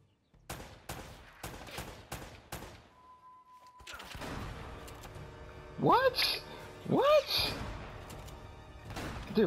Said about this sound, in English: What shotgun is this?